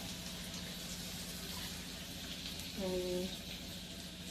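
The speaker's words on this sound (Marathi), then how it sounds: "इथे ना मी लसूण, जिरा मोहरी घातली तेलामध्ये, आणि लसूण आणि कांदा टाकला" Garlic, onion, cumin and mustard seeds fry in hot oil for a pitla preparation, a steady low sizzle throughout with a brief brighter tone near the end.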